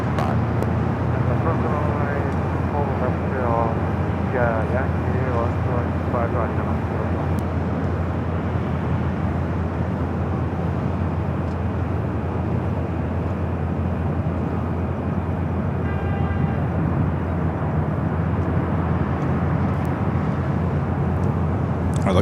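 Continuous broadband roar of jet aircraft at LAX, with an A380 and a C-17 on the airfield near runway 24 left, steady and fairly loud throughout with faint radio chatter under it.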